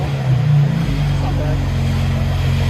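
A 2011 BMW 328i with a 3.0L inline-six and straight-piped exhaust, idling loud and rumbling with a deep, steady low-frequency drone and a slight rise in revs early on, up close and continuous.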